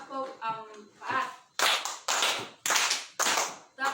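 Children in a classroom at an elementary school in Pantar Barat, Alor, clap in unison, loud and close, with several sharp group claps in a counted rhythm after a stretch of voices.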